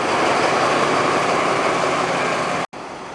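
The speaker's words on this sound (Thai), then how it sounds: "มาถึงก็เจอกับหัวรถจักรกำลังวิ่งเข้าสู่ลงหัวรถจักรเลยนะครับ" Loud, steady rumbling roar of a locomotive engine close by as it runs into the Thonburi locomotive shed, broadband and continuous, cutting out abruptly near the end.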